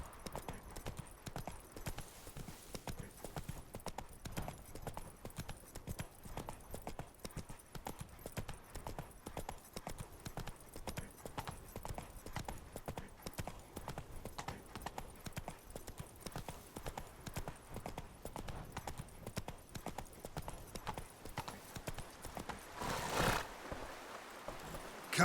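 Horse hooves clip-clop steadily and continuously in The Witcher 3, a rhythmic trotting gait under game ambience, with a brief whinny-like burst near the end.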